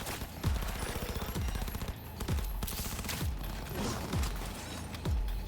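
Combat in the Cyberpunk 2077 video game, rapid automatic gunfire rattles continuously with repeated heavy booming impacts roughly every second, loud and dense.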